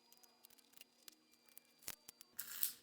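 Faint scattered snips and small clicks of scissors, then a louder rustling burst near the end as fabric is handled.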